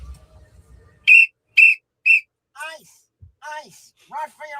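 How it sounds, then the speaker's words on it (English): A whistle sounds three short, sharp, evenly spaced blasts close by, followed by raised voices with a shouted, whistle-like warble. "Get my whistle ready."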